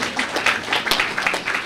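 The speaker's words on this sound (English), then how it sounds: "give her a round of applause" Brief audience applause during a conference session, a dense wash of many hands clapping at moderate distance, steady and fairly loud throughout.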